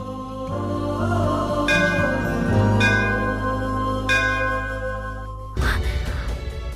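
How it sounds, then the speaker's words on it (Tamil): A temple bell is struck three times, each ring hanging over a steady droning background before a sudden noisy rustle at the end. "எங்கேயோ கோயில் மணி சத்தம் கேக்குது."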